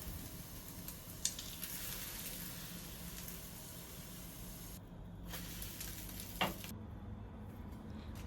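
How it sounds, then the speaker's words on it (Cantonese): A slice of sandwich bread frying in a little oil in a pan for breakfast, giving a soft, continuous sizzle with a couple of brief sharper crackles, faint and steady with no voices. "落少少油，撩一撩勻佢，然後放落去煎一陣，然後反個面。"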